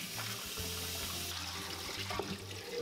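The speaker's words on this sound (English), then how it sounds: "rinse them under running water." Tap water running steadily into a sink while pork feet are rinsed under it after boiling, a continuous moderate splashing hiss with a low hum beneath, no voices.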